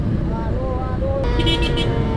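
Busy congested road during Lebaran holiday traffic, a steady low rumble of idling and crawling cars and motorbikes close by, with a brief higher-pitched whine or horn partway through and a voice murmuring underneath.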